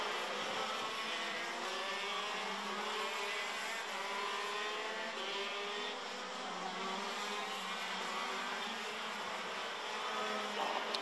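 KZ2 shifter racing karts at a Berghem Master round final blare past in a dense, continuous high-pitched engine wail that holds steady and loud for the whole stretch, with no voices.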